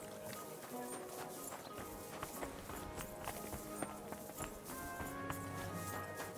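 Horse hooves clip-clop in Kingdom Come: Deliverance 2, a steady moderate-paced walking rhythm heard fairly close amid game ambience and faint music.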